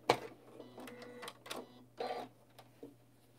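Sewing machine stitching a hem, running slowly in short bursts of mechanical whirring and clatter separated by pauses, fairly close over a faint steady hum.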